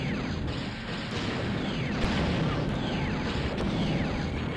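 In the Star Wars game Shadows of the Empire, a spacecraft fires missiles that burst into a steady rumble of explosions, with a few sharper pops over a continuous roaring bed of engine and blast noise.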